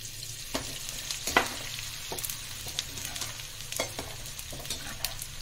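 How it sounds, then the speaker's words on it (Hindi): Edible gum (gond) roasting in a pan over a low flame for dry fruit ladoo, giving a faint, steady sizzle broken by soft stirring scrapes and occasional small pops, with no talking. "ये गोंद को हम सेक लेते हैं, इसको धीमी आंच पर ही सेकेंगे।"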